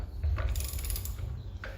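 Ratchet snugging down a bolt on a 1966 Pontiac Catalina wagon, giving a few close, quick mechanical clicking strokes at a low level with no talking.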